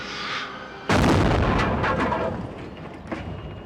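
A movie-set bomb rigged with about four gallons of gasoline detonates in one sudden, loud blast that rolls on as a long, rumbling, crackling decay; no voices.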